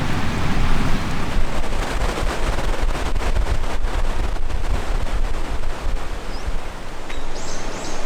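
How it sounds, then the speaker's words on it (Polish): Steady rain falls around a park shelter in Japan, a dense continuous hiss with low rumbling patter, loud and close throughout with no voices. "No i właśnie zaczęło padać znowu."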